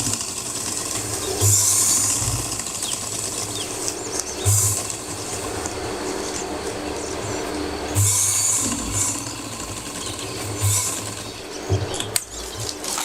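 A sewing machine runs in short bursts of rapid mechanical stitching during straight-line practice, fairly quiet with brief pauses between runs.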